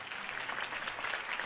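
Crowd applause after a Harvey Dent campaign speech: steady, dense clapping from many hands, moderately loud and even throughout, with no talk over it.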